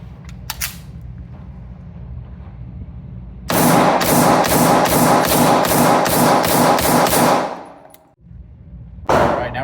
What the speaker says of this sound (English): Go ahead and shoot the Staccato again with the 124 training ammo